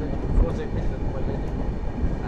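The 12503 SMVT Bengaluru–Agartala Humsafar Express runs near Tanguturu, heard from on board as a steady, close low rumble of wheels and carriages that carries on evenly throughout.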